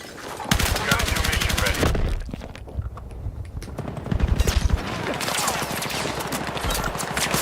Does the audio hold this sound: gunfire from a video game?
yes